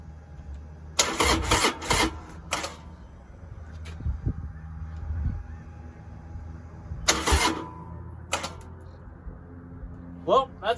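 A Harley Davidson Sportster 1200 engine cranks in several short bursts without catching, with pauses between attempts and a final brief crank, heard close up over a low background hum.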